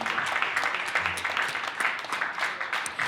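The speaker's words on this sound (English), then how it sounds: "please give another round of applause for our incredible artists" An audience at an IFC All Stars program claps for the artists, a dense, sustained wash of applause from many hands that stays steady for the whole few seconds.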